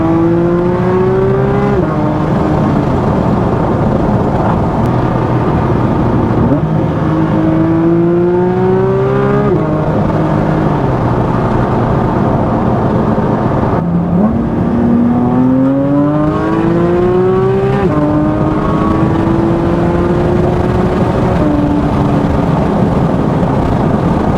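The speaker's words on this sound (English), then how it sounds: "Let's hear this exhaust." A Porsche 992 GT3 RS exhaust revs repeatedly, each rev a rising roar that swells and drops away, loud and close, with a constant rumbling idle between.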